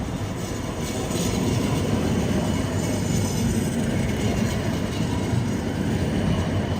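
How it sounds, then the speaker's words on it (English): A new Lisbon tram passes on line 15, its wheels and carriages producing a steady rolling rumble with faint squeal, fairly close and sustained throughout. "Look, this is the new trams of Lisbon."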